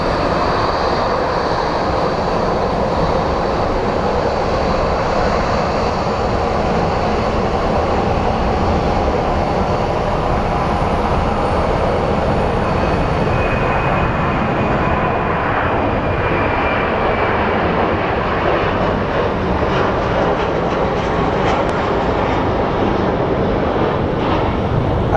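Airliner taking off at Phoenix Sky Harbor Airport, a loud, close, sustained broadband engine roar that holds strongly for the full length, with a thin high whine that gradually fades toward the end.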